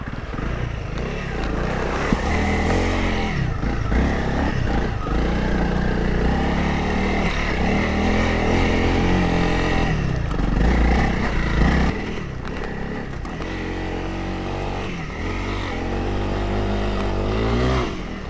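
A Honda CRF300 Rally motorcycle works through a crossing, its single-cylinder engine revving and bogging in uneven surges, loud and near, with splashing and throttle blips rising and falling throughout.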